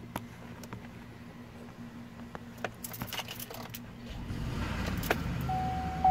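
A 2007 GM Tahoe engine, 6.2L, 6.0L, 5.3L or 4.8L V8, cranks and starts after a few ticks and clicks, settling into a steady, fairly loud idle rumble in the second half with no voices.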